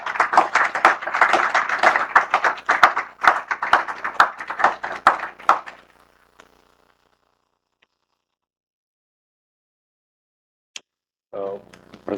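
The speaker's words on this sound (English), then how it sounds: "Please welcome, sir, with a huge round of applause." An audience applauds at a public sports goods manufacturing hub event in Chhotaudepur, dense clapping for about six seconds before fading to near silence, with a brief burst of sound near the end.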